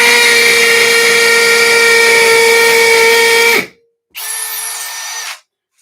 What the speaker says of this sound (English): We'll see what happens with the 1/4 inch. Let's go in another concrete hole here.